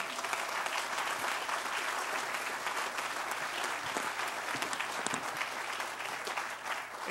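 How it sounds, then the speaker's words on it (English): Crowd applause at a campus groundbreaking ceremony, an even wash of many hands clapping for several seconds, moderately distant and fairly quiet, with no speech on top. "please give a round of applause to Denise and"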